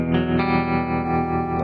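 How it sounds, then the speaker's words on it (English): An electric guitar chord rings through a TC Electronic Nova System tremolo effect, its sustained tone pulsing with a gentle, steady wobble in volume, loud and close. "Nice tremolo."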